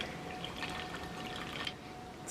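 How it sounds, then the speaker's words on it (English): A mint and lime cocktail pours from a container into a cup at home, a soft steady trickle of liquid running for a couple of seconds with a brief splashy burst near the end. "Then we are gonna pour it in here."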